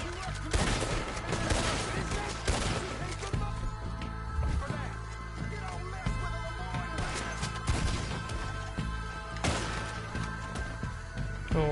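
Repeated dynamite blasts and crashing debris in Red Dead Redemption 2, several loud booming explosions spread through the stretch over a dense bed of in-game noise and music.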